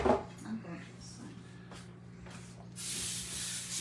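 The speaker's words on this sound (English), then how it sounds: "Spray your Baker's Joy over the sink" Baker's Joy baking spray hissed into pans over a sink, a faint short spray burst near the end after a soft clunk and quiet kitchen handling sounds.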